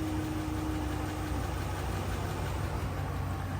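A Dodge Ram truck engine idles with a steady close rumble and a faint fast ticking running evenly through the clip, no talk.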